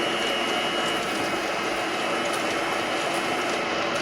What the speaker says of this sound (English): turning that up to 8 on my mixer